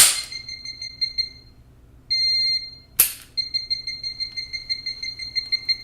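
A Jerk Alert training device sounds a piercing electronic alarm, set at sensitivity 4, giving a sharp beep, a held tone, then a rapid series of pulsing beeps, loud and close with no talking.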